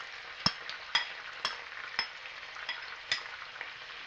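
Red curry paste fries in a pan for a stir-fry of pork belly and fine beans, with about six sharp scraping taps of a utensil spaced roughly half a second apart over a low, steady sizzle.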